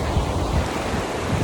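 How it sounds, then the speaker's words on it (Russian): Stormy Black Sea surf in Anapa, a loud, continuous roar of crashing waves with heavy wind buffeting the microphone. "На фоне бушующего моря"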